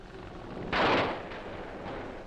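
A single heavy, muffled boom of distant World War II artillery fire on German soil, from an American newsreel, swells and fades over a steady hiss of old recording noise.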